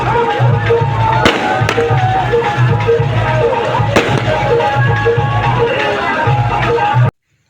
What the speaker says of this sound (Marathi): हे बघा आता फटाके फुटणं चालत